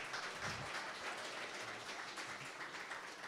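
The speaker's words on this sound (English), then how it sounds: "Y'all can go on and clap." An audience claps steadily at a music-production talk, a continuous faint wash of applause with no clear breaks and no voices on top.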